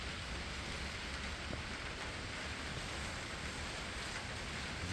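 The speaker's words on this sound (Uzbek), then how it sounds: "Yomg'ir quyyapti, uz boshladi bizni." Rain pours onto a tomato greenhouse, making a dense, even hiss of drops drumming on the covering that continues without a break.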